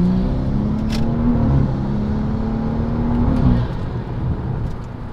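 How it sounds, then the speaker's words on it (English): A street car on Mickey Thompson drag radials pulls hard, its engine revving loud and close, then drops through a downshift with a brief rev change before settling, with no talk over it. "So let's do a nice little pull right here. And downshift."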